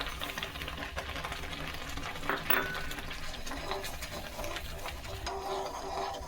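Bilimbi jam with added sugar being stirred steadily in a pan on the stove as it boils and thickens, a continuous close scraping and bubbling texture with a few sharper clinks along the way.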